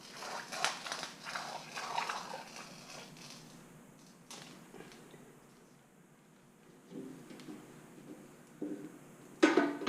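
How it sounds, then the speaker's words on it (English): A glass cutter scores a piece of glass for mosaic tiles, giving a faint scratchy rasp with soft creaks and taps, quiet and close with a sharper click near the end. "score the flattest side of the glass"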